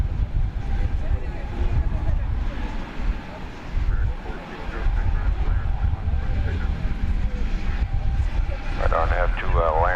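An American Airlines A319 takes off at night from DFW airport, its engines making a loud, continuous low roar throughout, with a few high whistling tones near the end.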